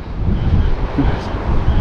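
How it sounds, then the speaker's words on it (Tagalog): Strong wind roars steadily into the microphone outdoors by the sea, a dense, low buffeting rumble with no pauses. "lumalakas na rin ang hangin"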